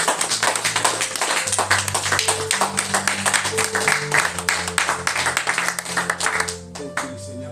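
A church congregation claps and cheers in praise, a dense, steady wash of many hands lasting several seconds, with sustained musical tones under it before it thins out near the end.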